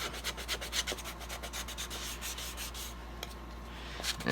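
Light hand sanding over a painted wooden paintbrush handle, a steady close scratchy rubbing in quick back-and-forth strokes with a low hum beneath.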